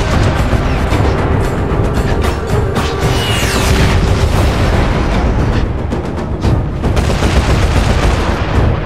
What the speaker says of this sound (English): Target received. Stand by for incoming strike.